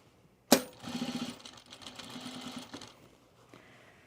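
Sewing machine stitching piping onto pajama bottoms, a sharp clack at the start followed by a short, faint burst of rapid mechanical whirring that fades out, close and without talk.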